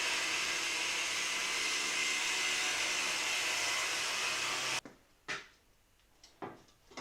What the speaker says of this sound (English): Cut that out with a thin cutting disc.